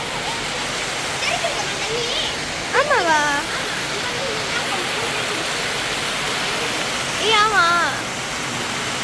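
Water flows steadily at the Ramayana caves, a loud continuous rush like a waterfall or fast stream filling the scene, while people talk briefly over it.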